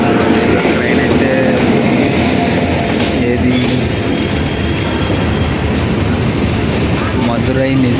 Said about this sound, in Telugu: మదురై నిజాముద్దీన్ సంపర్క క్రాంతి ఎక్స్ప్రెస్